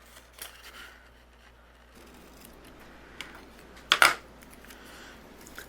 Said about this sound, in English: now I'm going to take my scissors and I'm going to fussy cut around the snowman area here